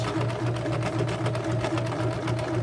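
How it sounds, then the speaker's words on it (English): A domestic sewing machine runs steadily in reverse, back-stitching to lock the seam on a beginner's tote bag, giving an even, continuous motor whir with a rapid needle rhythm, close and alone. "using the reverse lever on my machine, I'm going to back up a little bit, and that's going to lock the stitches down"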